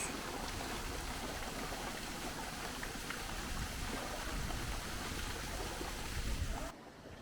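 Continuous soft rushing of Sarmaşık Waterfall in Araç, Kastamonu, Turkey, a steady broadband splash that stays even throughout and drops slightly at the very end.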